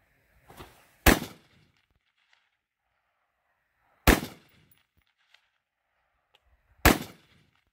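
Three loud, widely spaced gunshots fired at steel targets in a 3-gun match, each sharp crack decaying quickly, with a softer pop just before the first.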